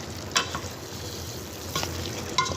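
Spiced chicken mixture with ginger, garlic, masala and cumin powder being stirred in a hot pan for biryani, a steady close sizzle with three brief scraping stirs, no talk.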